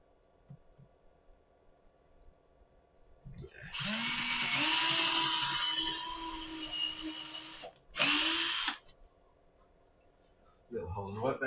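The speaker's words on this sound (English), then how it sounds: "Should probably drill a hole in that so we can hang it up with the other one." A power drill bores a hole in a piece of wood on a workbench, whining steadily for several seconds, then a second short burst, with quiet handling sounds between and after.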